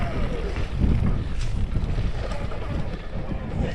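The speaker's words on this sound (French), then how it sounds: "Ah, il y a du vent là." Wind rushes over the microphone during an e-MTB ride on a mountain loop, a continuous rumbling buffet with gusty rises, fairly loud throughout.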